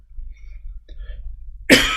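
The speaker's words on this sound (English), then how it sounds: "Sorry about the coughing." A single sharp throat-clearing cough bursts out close and loud at the end, after a couple of seconds of near silence with faint soft sounds.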